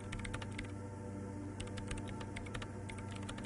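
Rapid keystrokes on a machine's keyboard in the game Disco Elysium, a dense run of clicks and taps over steady background hum, with no voices.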